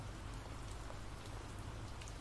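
Heavy rain pours steadily in a horror exploration game, a dense unbroken hiss of drops on surfaces with no voices over it.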